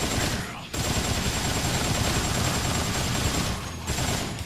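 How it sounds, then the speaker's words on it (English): A machine gun fires in the video game Dead Rising, a loud continuous rapid rattle of shots with brief gaps between bursts. "Let's use this fancy schmancy machine gun we got from our survivor."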